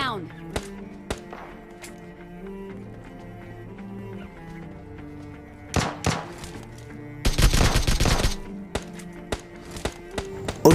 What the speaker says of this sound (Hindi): क्योंकि फायर बहुत हो रहा था।